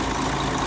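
Diesel engine of a Mercedes-style 1634 truck idling steadily after new injectors, valve adjustment and an oil and filter change, a continuous close rumble with broad noise and no talk.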